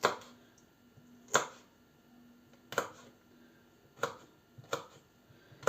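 Knife chopping fresh garlic scapes into small pieces on a board, sharp distinct cuts at irregular intervals about a second apart, close and crisp over a quiet background.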